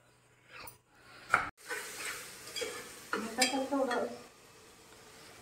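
Masala roasts in a pan, heard as quiet, close stirring scrapes and a faint sizzle in short uneven bursts.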